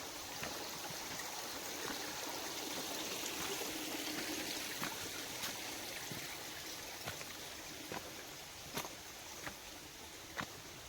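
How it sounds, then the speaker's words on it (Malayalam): Water trickles and gurgles steadily between rocks on Agasthyarkoodam, a soft continuous flow with occasional small splashes and clicks; no one speaks. "ഫുള്ള് കല്ലിൻ്റെ ഇടയിൽ വെള്ളം ഒഴുകി"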